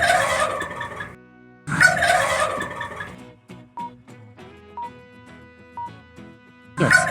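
A turkey gobbles twice in loud, rapid, warbling bursts with a pause between them. Soft plucked musical notes fill the gap, and a third gobble starts at the very end.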